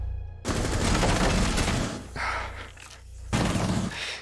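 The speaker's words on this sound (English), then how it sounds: "Where did Sledge shoot?" Gunfire in the tactical shooter Rainbow Six Siege: loud, close rapid volleys of shots, then a pause and another sharp burst near the end.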